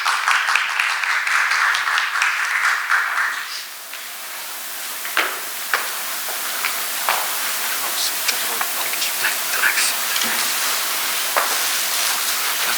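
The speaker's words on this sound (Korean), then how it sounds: "큰 박수로 환영해 주시기 바랍니다." An audience at an international martial arts academic seminar applauds to welcome a speaker with dense, sustained clapping that thins out after a few seconds into scattered claps and rustling.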